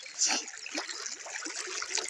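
Floodwater flows after heavy unseasonal night-time rain in a rural yard, a steady close rush and trickle of running water with small splashes throughout.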